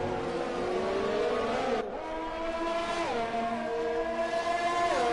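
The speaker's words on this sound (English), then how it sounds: "I love that shot of all four cars just going right up the hill" Several Formula 1 race cars from a racing video game at the Monaco Grand Prix climb a hill, engines droning loud and steady with rising and falling pitch as they accelerate and shift, no talk over them.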